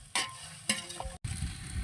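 Meat being stirred in a cooking pot, scraping and sizzling in bursts with a brief pause, close and fairly loud with no talking.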